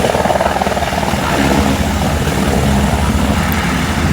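Steady, loud rotor chop of a Kedarnath pilgrimage helicopter service in the snowy Himalayan mountains, continuous throughout with a rumbling engine drone and no talking.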